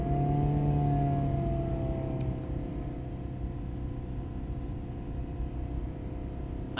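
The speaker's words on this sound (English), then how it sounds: "I'm going to accelerate," A Ford Escape / Mazda Tribute engine with a rich-running fuel condition rises from idle, its steady mid-pitched hum and rumble holding under acceleration, fairly close and continuous with no talking.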